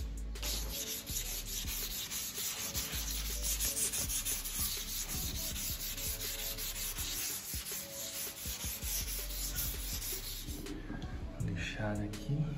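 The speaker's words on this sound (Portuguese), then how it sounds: "Já vou lixando ela com lixa d'água." Wet 360-grit sandpaper rubs back and forth across a Ford F250 plastic grille, giving a continuous close scratching hiss with uneven strokes and someone talking intermittently over it.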